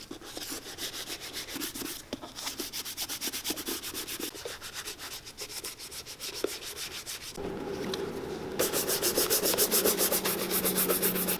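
Shoe cream being rubbed into Cole Haan leather loafers, a steady, close, scratchy brushing texture with rapid repeated strokes that grows slightly louder and denser toward the end.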